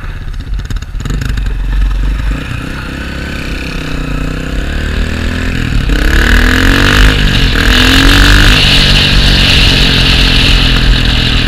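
A dirt bike engine, a Honda CRF 230 or Yamaha TTR 230, runs loud and close throughout, rising from a steady idle into revving, with no voices over it.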